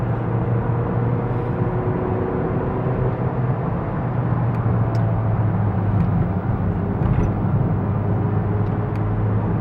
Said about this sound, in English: You can simply feel, you can simply hear the engine struggling.